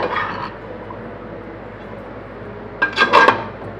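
A spoon scrapes and clinks against a pot while navratan pulao rice is mixed, in two short bursts of scraping separated by a quiet pause.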